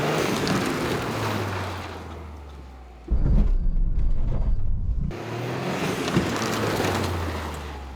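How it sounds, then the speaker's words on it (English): A Toyota GR Yaris makes a handbrake turn in a car park: the engine drones and revs, then cuts to a sharp burst of tyre scrub and rumble before the engine note returns and pulls away, loud and close. "Time to score it on the very important car park special, the handbrake"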